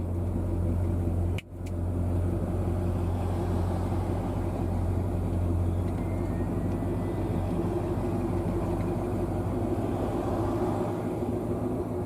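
Hot rod show traffic crawls along the Pigeon Forge strip at the 2023 Rod Run, a steady low engine drone of nearby idling and rolling cars with a single sharp click early on. No one speaks.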